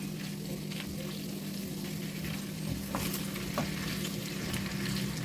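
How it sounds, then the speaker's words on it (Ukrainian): Meat and onion sizzle and crackle steadily in a hot pan over very low heat, with occasional stirring scrapes and no talking. "І продовжую смажити іще приблизно 10-15 хвилин на самому маленькому вогні."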